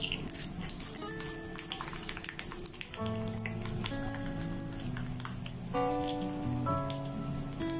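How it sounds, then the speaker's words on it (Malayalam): Mustard and fenugreek seeds spluttering in hot coconut oil for Kerala sambar, a dense crackle of tiny pops over a steady sizzle, with tonal background music running underneath, close and moderately loud. "എണ്ണ ചൂടായിട്ടുണ്ട് നമുക്ക് കടുകും ഉലുവയും കൂടെ ഇടാം"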